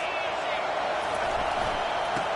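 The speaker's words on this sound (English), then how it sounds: "This crowd trying to make life miserable for this offense." Stadium crowd noise in the college football game NCAA 25 forms a steady, loud roar throughout, with game commentary underneath.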